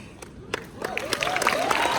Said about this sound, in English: Wait, don't clap yet.